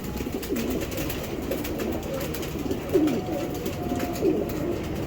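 Racing pigeons coo softly and repeatedly at close range over a steady background hiss, with a couple of slightly louder calls standing out partway through.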